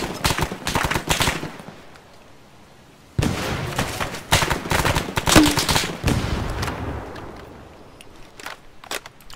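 In a video game firefight, loud rapid bursts of automatic gunfire come in clusters, with a heavier blast among them and short quieter gaps between the volleys.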